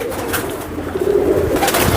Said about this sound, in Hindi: तो दोस्तों सारे कबूतर खुल चुके हैं